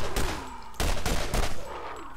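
Pistol shots ring out in Borderlands, a few sharp bursts spaced across the span, loud and close, with a quick cluster near the middle and faint game ambience between them.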